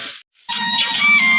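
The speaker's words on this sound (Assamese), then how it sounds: "অকণ লাৰি দিম যেন সকলোখিনিতে মছলাখিনি লাগি যায় ধুনীয়াকৈ।" Pork pieces being stirred through fried onion masala in a pan for an Assamese pork curry, a steady close sizzle and scraping of the spoon after a brief pause.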